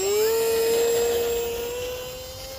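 A Hobbyzone Aeroscout RC plane flies overhead, its electric motor giving a steady, fairly loud whine that holds one pitch and slowly fades as it moves away.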